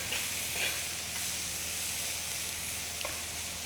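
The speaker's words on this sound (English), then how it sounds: "I put a wee bit of butter in, it's starting to brown, so just add the leeks" Leeks sizzling steadily in browning butter in a pan while salted ling is cooked, a close, continuous frying hiss with a few faint stirring clicks.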